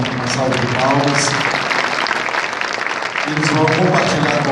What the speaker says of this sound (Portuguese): recebam-os com uma salva de palmas